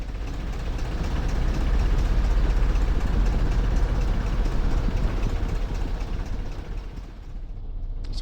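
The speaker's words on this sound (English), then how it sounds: "Probably throttle us back to idle here." X-Plane 11 aircraft engine throttled back to idle, a steady low rumbling drone that eases slightly toward the end, continuous and fairly loud with no voices.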